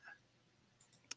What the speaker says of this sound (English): Can you hear the clicking of the mouse?